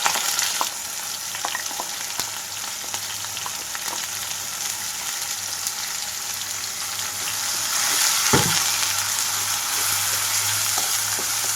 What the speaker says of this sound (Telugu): ఇవన్నీ వేగిన తర్వాత ఆల్రెడీ గ్రైండ్ చేసి పెట్టుకున్న ముద్ద ఇందులోకి వేస్తున్నాను.